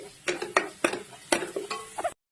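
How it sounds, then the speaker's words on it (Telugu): Ginger garlic paste fries in a pan for a small-fish curry while being stirred, giving a run of close, loud scraping and clattering strokes over a low sizzle, ending abruptly. "పేస్ట్ కొంచెం ఫ్రై అయిన తర్వాత అల్లం వెల్లుల్లి పేస్ట్ వేసుకోవాలి."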